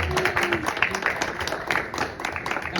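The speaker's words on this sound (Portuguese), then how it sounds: "uma salva de palmas para essa roda de conversa aqui" Group applause and clapping for a conversation circle at a cultural gathering, a dense patter of hands that fills the short stretch at steady loudness, with faint voices mixed underneath.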